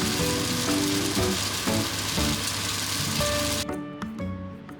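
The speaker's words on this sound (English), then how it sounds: "If there's water left, let it sizzle till it's all dry" Beef and chives potstickers sizzle and fry steadily in a pot as leftover water cooks off, a dense crackling hiss with no voices, quieting a little near the end.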